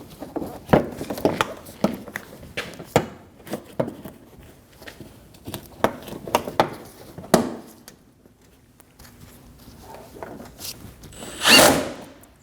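A power tool drives screws into a 2012-2022 Volkswagen Passat bumper in short bursts, with clicks and handling noises between them and a louder buzzing run near the end.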